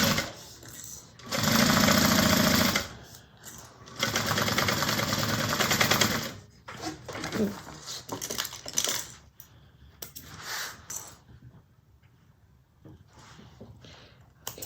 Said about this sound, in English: so we're going to sew that on 1/4 inch